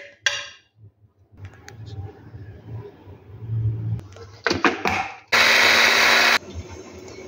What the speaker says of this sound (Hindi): मैं ग्राइंडर अच्छी तरह कर लूँगी